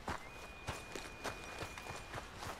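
Horse hooves clip-clop at a steady walking pace in Red Dead Redemption 2, close and moderately loud, with an even rhythm of soft thuds.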